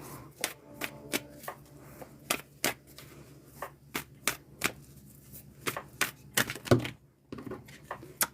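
Tarot cards are shuffled and riffled in a run of sharp, close, irregular snaps and taps with brief pauses. No one speaks.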